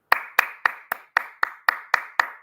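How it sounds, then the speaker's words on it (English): Two hands clap in a slow, even rhythm, about nine crisp, close claps at a steady pace with short gaps of silence between them, alone with no talk. "I want to quickly take a second and applaud."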